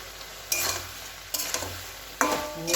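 Potatoes sizzle in hot oil in a pan while a spatula stirs them in three distinct scraping bursts, each followed by a louder hiss, close up over a low steady frying background.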